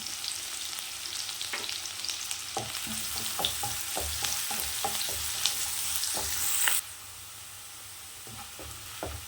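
Ginger and garlic frying in a pan for egg curry: a steady close sizzle broken by repeated scrapes and taps of stirring, which drops to a quieter hiss near the end.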